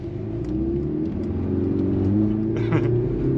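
A 2024 Mercedes-Benz GLC AMG 43 accelerates on the road, its engine rumble swelling steadily from the cabin, with a brief lighter rattle partway through and no talking.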